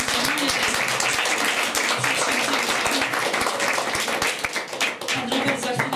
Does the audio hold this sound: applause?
yes